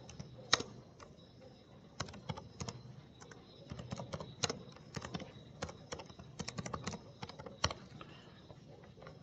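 Remarks being typed on a computer keyboard, a quiet, uneven patter of close key clicks with short bursts and brief pauses, continuing steadily with no talk.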